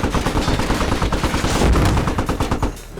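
Rapid bursts of gunfire crackle almost nonstop, dense and loud, automatic weapons firing in the video game Squad during armored combat, with no talking.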